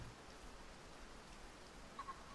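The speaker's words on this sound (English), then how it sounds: "So it is raining." Rain falls in the hunting game Way of the Hunter as a steady, soft hiss that runs unbroken throughout, with a faint brief chirp near the end.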